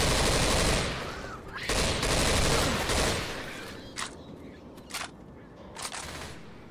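Left 4 Dead 2 gunfire: a loud sustained burst of automatic fire for about three seconds, then several separate sharp single shots spaced apart as the fire tapers off.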